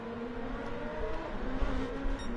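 Porsche race car in a GT3/GTD sim race at CGV, its engine a fairly faint, continuous whine with a slight rise in pitch as it passes, no talking.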